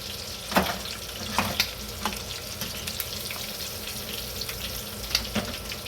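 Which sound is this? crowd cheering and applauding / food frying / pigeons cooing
food frying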